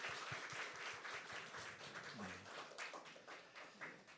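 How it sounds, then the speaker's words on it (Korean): Church congregation in a Korean worship service applauding together, a sustained spread of many hands clapping with audible individual claps, fairly soft and distant, with a brief voice partway through. "다시 한번 하나님 앞에 큰 영광의 박수 올려드리겠습니다."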